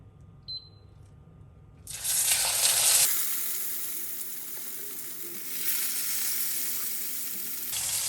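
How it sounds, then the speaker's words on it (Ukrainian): A chicken cutlet wrapped in bacon drops into hot oil in a frying pan and erupts into loud, close sizzling that settles into a steady fry, with a brief click early on. "І так смажемо нашу котлетку"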